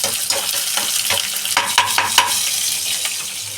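Ginger, garlic and chilli frying together in oil, a loud, dense and steady sizzle close by, with light scraping clicks from stirring scattered throughout and no talk.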